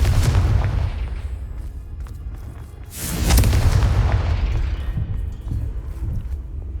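Confringo fire-spell blasts in the Hogwarts Legacy game: heavy, deep booms over a continuous low rumble, with a sharp fresh explosion near the middle that rolls and decays, loud and close, with no speech.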